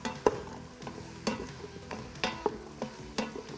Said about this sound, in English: So once our potatoes are in, I'm just going to stir it around a little bit.